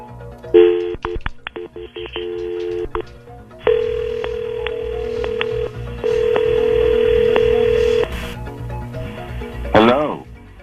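Telephone keypad tones and dialing beeps setting up a three-way call, a few quick presses then longer tones, ending in a brief warbling sound; fairly loud and close.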